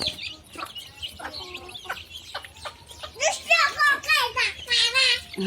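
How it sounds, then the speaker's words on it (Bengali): Chickens cluck and squawk while being fed in a rural village yard after heavy rain, with ducks nearby. Sharp, rapid bursts grow louder toward the end, and children's voices and talking mix in throughout. "হাঁসগুলো খাবার খেতেছে, মুরগিকে খাবার দেওয়া হয়েছে"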